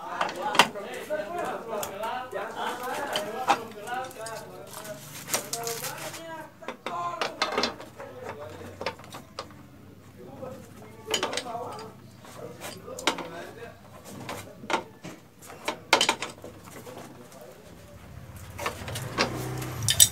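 Metallic clicks and knocks from a wrench tightening the pipe fittings on an air conditioner's indoor unit, irregular and close, with a voice talking through much of it.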